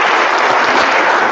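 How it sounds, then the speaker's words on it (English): Brief, steady applause from an audience at a trauma-informed talk at Cottey College in Nevada, Missouri, an even wash of clapping with no voices. "Let's have another round of applause for them."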